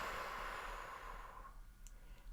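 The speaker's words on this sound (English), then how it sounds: "you may have noticed I was making sound on the exhalation" A slow, audible exhalation during a guided breathing and relaxation exercise, a breathy sigh that fades out over about a second and a half, close and soft, followed by quiet with a faint click.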